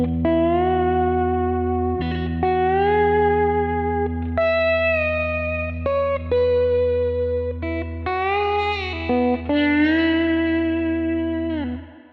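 A slide guitar plays a blues line through a Fender-style spring reverb with a three-second decay, loud and sustained with gliding pitch and lingering wash between phrases.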